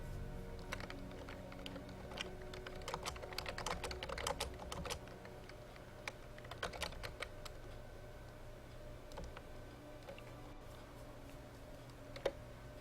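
Rapid computer keyboard typing runs throughout, with bursts of clustered keystrokes over a steady low hum during a Dota 2 finals match broadcast, no talk.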